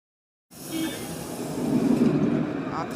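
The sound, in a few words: modernised Lyon TCL tram departing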